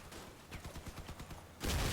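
Rapid shotgun fire from the vehicle combat game Crossout sounds in a quick series of about ten sharp blasts, followed by a louder, denser burst of noise at the end.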